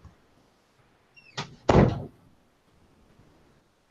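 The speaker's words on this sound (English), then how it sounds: "Closing door from dog barking." A door swings shut with a single solid thud, preceded by a faint squeak and a lighter knock, close and loud in an otherwise quiet room.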